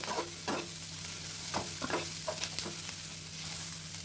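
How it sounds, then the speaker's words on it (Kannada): Vegetables fry in butter over a medium flame, a soft steady sizzle with scattered spoon clinks and scrapes of stirring in the pan, fairly quiet and close. "ಒಂದು ಐದು ನಿಮಿಷ ಲೋ ಫ್ಲೇಮಲ್ಲಿ ಮೀಡಿಯಮ್ ಫ್ಲೇಮಲ್ಲಿ ಆ ಬಟ್ಟರಲ್ಲಿ ಇದೆಲ್ಲ ಫ್ರೈ ಆದರೆ ಸಾಕು"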